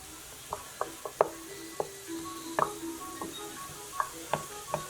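Jambalaya ingredients are stirred in a pan: a spoon scrapes and taps against the metal at irregular intervals over a faint steady sizzle.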